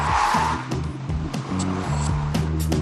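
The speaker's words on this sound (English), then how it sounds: "Half turn right, full turn left, handbrake." A car performing a handbrake turn in a dead-end lane: a steady engine drone with rhythmic rising and falling tone and a rough tire skid layered over it, loud and close throughout.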